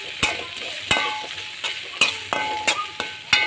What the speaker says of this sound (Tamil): தக்காளி போட்டு நல்லா வதங்கட்டும்